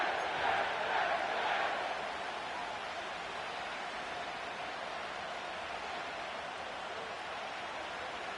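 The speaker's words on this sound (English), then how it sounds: "The crowd is definitely ready." A stadium crowd in an EA Sports football video game, set at MetLife Stadium in East Rutherford, roars as a steady wash of cheering noise, a little louder for the first two seconds and then holding level.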